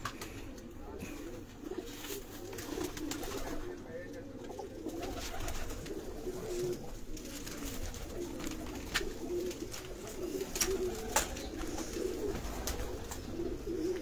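Flying pigeons coo on a rooftop in Lahore, a continuous low murmur from several birds with scattered clicks and brief wing noise, faint voices nearby.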